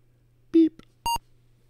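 Apple II internal speaker giving two short electronic beeps, a lower buzzy tone followed by a higher pure tone, over a faint steady hum and quiet background.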